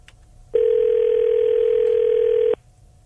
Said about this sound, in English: This is someone making a phone call.